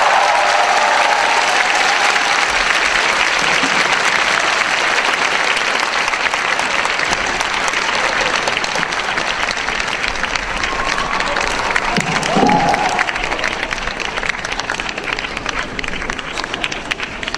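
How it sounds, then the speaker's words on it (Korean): Large audience applauding at a speech concert at Kyung Hee University, a dense, sustained wash of clapping that stays loud and steady throughout, with faint voices mixed in. "다시 한번 큰 박수 부탁드립니다."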